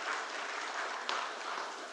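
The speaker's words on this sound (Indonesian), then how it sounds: "Kita kasih tepuk tangan untuk Denpasar." An audience applauds for Denpasar, a steady, fairly quiet wash of many hands clapping with no voices over it.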